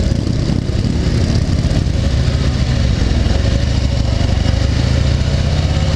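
A Harley Davidson Heritage Softail motorcycle on the road, its steady engine rumble loud and continuous beneath heavy wind noise, with the engine note rising slightly as it pulls along.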